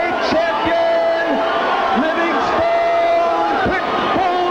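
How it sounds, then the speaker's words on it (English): Boxing arena crowd at the War Memorial Auditorium in Buffalo, New York, reacting to a technical knockout title loss with a loud sustained roar, while a ring announcer talks over it. "A stunned pro-Mancini crowd at the War Memorial Auditorium in Buffalo, New York, has seen Ray Mancini dethroned by Livingstone Bramble"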